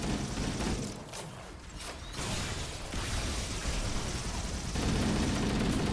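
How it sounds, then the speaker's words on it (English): Rumbling explosions and gunfire-like bursts in Halo: Combat Evolved Anniversary, a dense loud continuous wash of blasts and mechanical noise with swells and shifts. "See all sorts of explosions."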